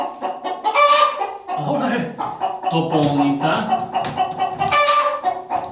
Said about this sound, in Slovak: Sliepočky sme boli zobrať v nedalekej farme, hydinárskej farme.